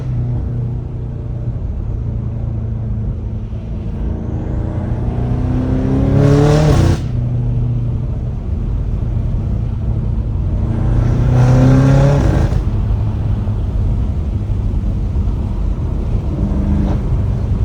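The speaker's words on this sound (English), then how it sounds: "those turbos sound crazy" A straight-piped, twin-turbo BMW M5 Competition engine rumbles steadily, then revs hard twice with rising whines, the second surge a few seconds after the first, with no voices present.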